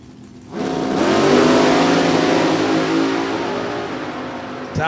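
Two NHRA drag race cars launch down the track at Thunder Valley Motorsports Park with a sudden loud engine roar that climbs in pitch, holds strong for several seconds, then slowly fades as they pull away.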